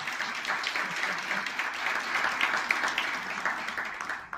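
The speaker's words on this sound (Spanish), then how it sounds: "Un aplauso, por favor." An audience at an event claps steadily and fairly loudly for several seconds, a dense, even round of applause with no talking over it.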